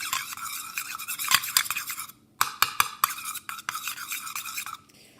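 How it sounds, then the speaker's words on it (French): Homemade glue-free slime made with gel being stirred in a container, a rapid wet scraping and swishing in close, busy bursts, pausing briefly midway before resuming, no one speaking. "je vais remuer. Comme ceci."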